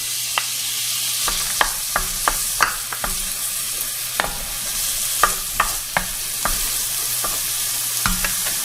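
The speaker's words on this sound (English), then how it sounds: "we're going to heat this up in our pan over medium heat" Finely diced small onion frying over medium heat in a little pot, a steady hiss of sizzling oil broken by frequent sharp scrapes and taps of a utensil stirring against the metal.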